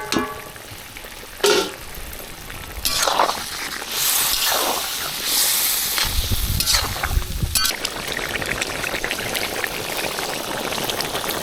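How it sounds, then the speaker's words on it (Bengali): Tangra fish cooks in a turmeric curry broth with water, bubbling and sizzling in a pan with bursts of pouring and stirring, fairly close and loud, with no one speaking. "জল দিয়ে দিলাম, মাছগুলো দিয়ে দিলাম ঝোলের মধ্যে।"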